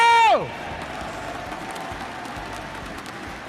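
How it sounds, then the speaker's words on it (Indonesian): A big esports crowd at a PUBG-style tournament cheering and clapping after a team's win, a broad roar of noise that follows a brief loud tonal sound at the start and holds steady to the end. "Tepuk tangan untuk kita semua hari ini, yo!"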